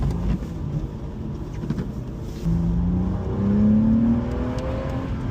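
A 2018 BMW M2 drives along with a steady engine and exhaust drone that rises in pitch as it accelerates, the bassy note swelling louder toward the end.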